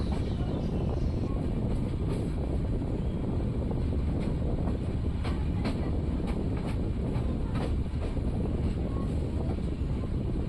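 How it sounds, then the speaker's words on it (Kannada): A train rolling slowly on the outskirts of Bagalkot before entering the station, a steady rumbling clatter with faint rhythmic wheel knocks and wind buffeting the microphone, continuous and fairly close. "ನಮ್ಮ ಟ್ರೈನ್ ಈಗ ಬಾಗಲಕೋಟೆ ಔಟರಲ್ಲಿದೆ"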